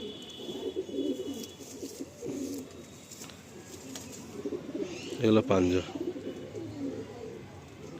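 A Madrasi pigeon coos in low, repeated throaty bursts close at hand, with people talking nearby between and over the calls.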